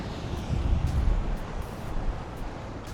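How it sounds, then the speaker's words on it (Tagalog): Strong wind roars steadily across the microphone outdoors beside a Motur Punk Base electric scooter, a continuous low buffeting rumble with no pauses. "Medyo malakas yung hangin dito sa"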